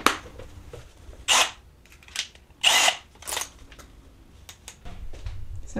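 Several short, loud bursts of a power drill whirring during kitchen cabinet installation, spaced a second or so apart with quiet gaps in between, close by.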